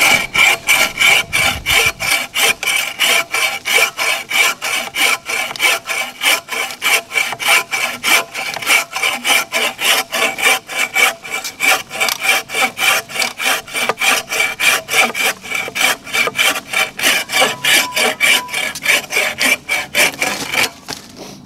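A Bob Dustrude Quick Buck Saw cuts through wood in a fast, steady rhythm of loud rasping strokes, dozens in a row, close up with no talking.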